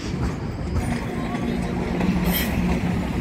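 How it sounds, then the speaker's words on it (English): A GO passenger train pulls out of Union Station in Toronto, giving a steady, close rumble of wheels and cars that fills the whole stretch. "It's leaving Union Station."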